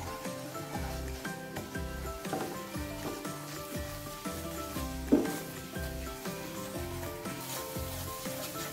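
Flour stirred into a hot pan for white sauce pasta, giving a soft sizzle with scraping spoon strokes and one brief clatter, while music plays underneath and a voice talks at moments.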